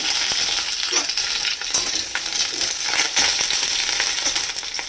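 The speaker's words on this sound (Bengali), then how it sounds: "এবারে এই কুমড়ো আর সজনে ডাঁটাগুলো দিয়ে দেবো।" Pumpkin pieces and drumsticks sizzle loudly in hot oil in a frying pan along with green chilies, a dense, constant hiss broken by stirring scrapes and crackles, up close and without speech.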